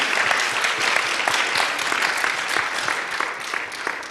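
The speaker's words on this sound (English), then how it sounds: "Please give a round of applause to our presenters again" A church hall audience at a mental health forum applauds the presenters, producing a strong, continuous wash of clapping with crisp individual claps standing out, steady throughout and easing slightly toward the end.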